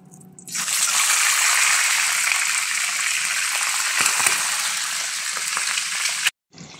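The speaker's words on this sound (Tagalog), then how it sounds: "At pag ready na ang ating karne, malambot na siya, iprito na natin siya." Pork for lechon kawali sizzles and crackles loudly in hot oil over low heat, a continuous bright frying hiss that stops abruptly at the end.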